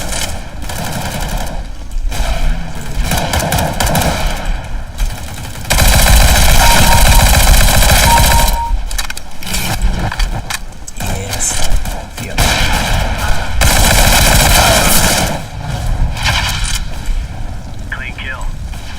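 P90 submachine gun fire in a video game, loud sustained bursts with sharp breaks between them, mixed with game effects and players talking over the shooting.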